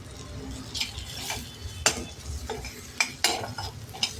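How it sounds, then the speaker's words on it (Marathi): A spatula stirs and scrapes masala with large tomato chunks in a pan for a Khandeshi chawli dal, with a quiet sizzle under several sharp, close metallic clinks and no talking. "1-5 मिनटं आपण छान परतून घ्यायचं, म्हणजे मसाल्याचा कच्चेपणा निघून जाईल"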